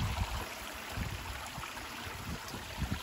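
Waterfall in Thailand heard as a faint, steady rushing wash of flowing water with low rumbling gusts, distant and continuous with no voices.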